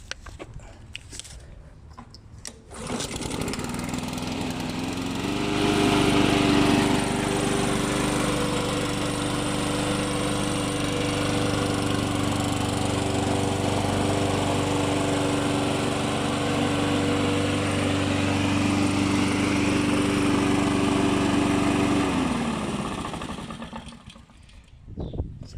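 A Victa Mulchmaster 480 lawn mower pulls into life after a brief quiet pause, then runs at a steady, loud, close idle with a smooth, even drone for about twenty seconds before cutting off.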